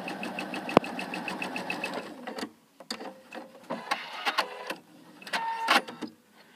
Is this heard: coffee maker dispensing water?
no